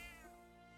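A cat meowing in Metaphor: ReFantazio, a single brief, faint tonal meow with a falling pitch, heard alone with no talk over it.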